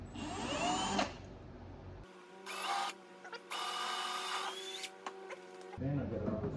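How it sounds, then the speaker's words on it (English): A power drill bores a hole while a Lighting Trendz LED wheel light ring is fitted. Its whining motor runs in several short bursts with brief pauses, framed by rustling handling noise at the start and end. "Drill another hole."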